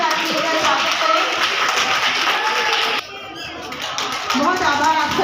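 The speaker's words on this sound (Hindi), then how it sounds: "सभी विद्यार्थी तालियों की करतब ध्वनि के साथ मिलकर स्वागत करें" Students clapping together to welcome a guest at a school Republic Day celebration in Lohagal, Ajmer: dense, sustained applause close by, a brief dip midway before the clapping swells again, with voices mixed in.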